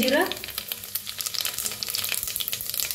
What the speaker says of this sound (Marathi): तेल तूप बघा चांगलं तापलेलं आहे, त्याच्यात टाकूया 1 चमचा मोहरी चांगली तडतडू द्या